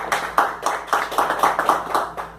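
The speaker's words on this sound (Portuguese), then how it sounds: "Também gostaria de receber com a salva de palmas," Audience clapping to welcome a guest at a gathering, a brisk run of about a dozen fairly loud, close handclaps in an uneven rhythm, with no talking.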